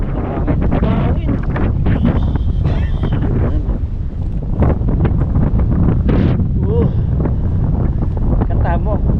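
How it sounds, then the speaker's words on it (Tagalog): Strong wind gusting beside a river in Taiwan, buffeting the microphone with a loud, steady roar while people talk over it. "Hangin."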